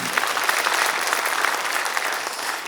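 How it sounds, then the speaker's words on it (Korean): Audience applause at an apartment residents' meeting during a work-plan report, a dense, steady burst of clapping lasting a few seconds without speech over it. "한번 박수 한번 주시면 감사하겠습니다."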